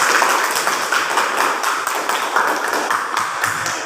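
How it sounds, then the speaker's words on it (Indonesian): A class claps together after a group presents its discussion, a burst of close, dense hand claps filling the room, steady for several seconds with no one speaking. "Ya, tepuk tangan dulu."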